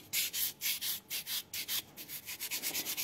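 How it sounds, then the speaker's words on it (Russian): Hand buffing of acrylic gel nails with a file or buffer block: rhythmic, evenly spaced scratchy rubbing strokes, about a dozen back-and-forth passes, close and fairly quiet with no talking. "Выполнили опил и можно приступать к шлифовке."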